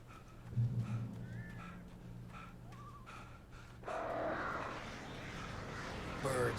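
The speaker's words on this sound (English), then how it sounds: "Birds." Crows caw in scattered calls over a low steady hum, followed by a louder stretch of noisy outdoor sound; a few breathy human noises appear but no clear speech.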